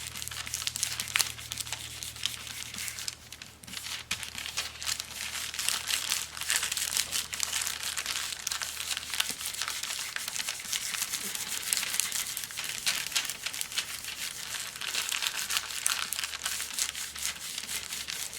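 Sheets of copy paper crinkle and rustle continuously as they are handled to press garden leaves flat for gel plate printing, a close, steady papery crumpling with no talk.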